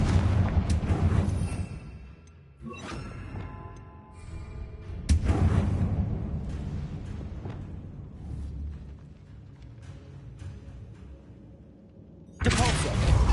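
Confringo fire spell blasts in Hogwarts Legacy go off as loud, booming bursts, one at the start, another midway and a third near the end, with quieter rumbling between them.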